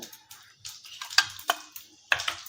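Mustard seeds and cumin dropped into hot oil for a Marathi green bean stir-fry, giving sharp scattered crackles and pops over a low sizzle, close by.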